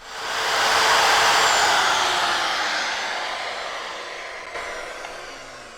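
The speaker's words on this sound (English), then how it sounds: "Right now I'm going to go ahead and cut more wood for our partition walls" A power tool cuts wood for teardrop camper partition walls, a loud broadband roar that swells within a second, then slowly fades over about five seconds.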